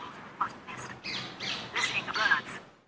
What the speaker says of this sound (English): The second button plays back my recording from before. Rose ringed parakeet.